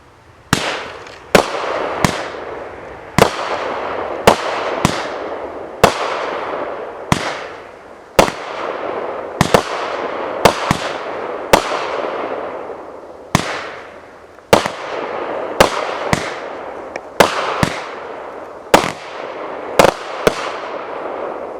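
Fireworks set off by an electronic firework firing system, about twenty sharp bangs spaced roughly a second apart, each a loud crack that rings out and decays briefly, continuing steadily with no talking.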